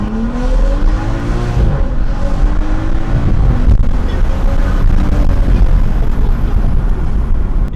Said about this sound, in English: Listen to the engine and look at my RPMs too.